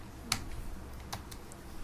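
Keys tapping on a computer keyboard while code is being typed, a few light clicks spread across a short quiet stretch, faint and close.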